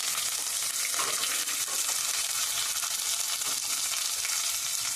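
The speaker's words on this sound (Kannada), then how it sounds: "ಈರುಳ್ಳಿ ಹಾಗೆ ಮೆಣಸಿನ್ಕಾಯಿ ಬ್ರೌನ್ ಕಲರ್ ಬರೋವರೆಗೂ ಫ್ರೈ ಮಾಡಬೇಕು" Onions and green chillies fry in a pan for egg biryani, making a steady, close sizzle with faint scraping from stirring throughout.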